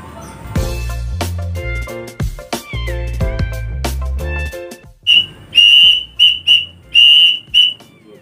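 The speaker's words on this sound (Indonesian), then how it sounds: "Cara menyetel sawangan angkrik biar seperti ini ya." A sawangan angkrik pigeon whistle sounds in a series of sharp, shrill whistling bursts in the second half, preceded by a louder jumble of low, thumping mixed sound.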